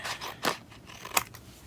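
Scissors snipping through planner stickers from a botanicals sticker book, two or three quick, close, crisp cuts in a quiet room.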